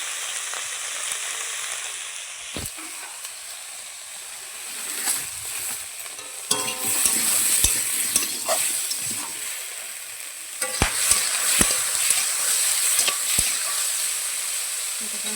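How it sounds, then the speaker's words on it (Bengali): Food sautéing in a pan with salt and turmeric, a steady sizzle with occasional scrapes and stirring knocks, getting busier partway through, with no talk. "নুন হলুদ দিয়ে দিয়েছি, ভালো করে কষিয়ে নেব।"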